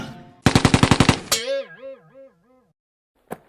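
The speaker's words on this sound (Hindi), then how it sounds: "ये है जापानी स्टेन गन" A rapid burst of about ten cartoonish shots from a Japanese Sten gun, then a warbling, wobbling electronic echo that fades out, and a single sharp crack near the end.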